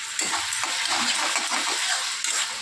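A spoon stirs bottle gourd curry with rohu fish heads and added sugar in a sizzling pan, giving a continuous wet scraping and bubbling sound close up, without any voices.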